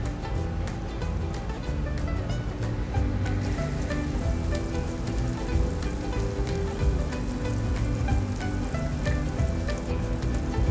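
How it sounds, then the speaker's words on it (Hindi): Chicken frying in a little olive oil on a grill pan gives a loud, steady, crackling sizzle that carries on unbroken throughout, close up and with no voices. "उसके बाद हम ग्रिल पैन में इसको फ्राई करेंगे"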